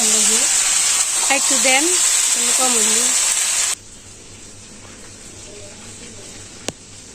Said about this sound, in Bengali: এখন মাংস মাছ পটল ভাজা হবো